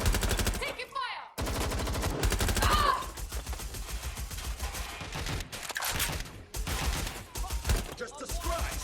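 Rapid automatic gunfire in the shooter game Watch Dogs Legion, with dense bursts of shots and brief gaps between them, loud and close, and game voices calling out during the fighting.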